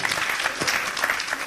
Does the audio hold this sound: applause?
yes